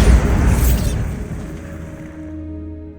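Bombarda blasting spell from Hogwarts Legacy gameplay: one loud booming explosion with a bright crackling burst that decays over about two seconds into a fading low rumble and ringing tail.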